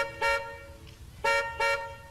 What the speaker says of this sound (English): And a car honking.